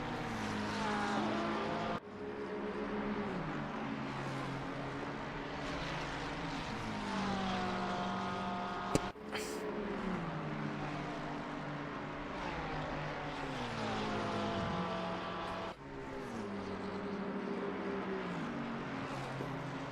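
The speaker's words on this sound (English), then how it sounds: "hear the Porsche screaming after that McLaren" A Porsche race car engine screams at high revs at the Nürburgring 24 Hours in Assetto Corsa Competizione, rising in pitch through each gear and dropping sharply at three upshifts, loud and close.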